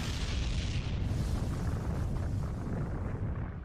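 A massive explosion from an Attack on Titan anime finale, a heavy, sustained roar of rumbling blast noise that fills the whole moment and eases slightly at the end.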